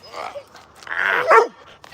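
A big dog in a home with other dogs gives a few close, loud yipping barks and whines, with a person's voice mixed in among them.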